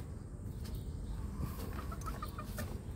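A golden boy sweater gamefowl rooster gives a few soft, faint clucks over a low background hum, the short calls coming in a loose cluster toward the end.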